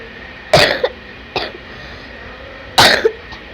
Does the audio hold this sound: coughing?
yes